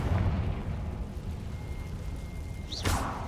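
A Confringo blast spell explodes in the Hogwarts Legacy video game. A low booming rumble sustains across the moment and ends with a bright, whooshing burst near the end, with no talk.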